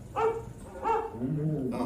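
An animatronic dog on the Carousel of Progress ride at Magic Kingdom gives two short, close barks followed by a brief whiny yip, with a faint voice in the background.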